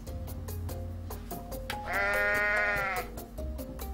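A goat in the video game Goat Simulator lets out a loud, sustained bleat midway, set against a steady pulsing game soundtrack.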